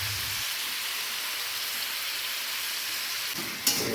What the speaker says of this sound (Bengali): আলুগুলো কড়াইয়ে দিয়ে দিচ্ছি, এইভাবেই ভালো করে আলুগুলোকে ভেজে তুলে নেব।